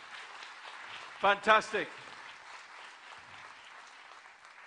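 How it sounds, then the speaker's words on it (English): A seminar audience gives a round of applause, with sustained clapping that runs underneath throughout while someone briefly speaks over it near the start. "Give him a big round of applause."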